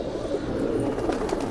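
A Madrasi pigeon, one of a breeding pair, gives low soft coos in a brief close murmur with no talk.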